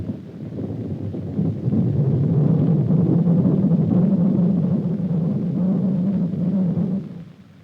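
Doppler radar return from a running man, heard as a continuous rumbling, whooshing hiss that swells and pulses with an uneven rhythm, fairly loud and steady before fading at the end.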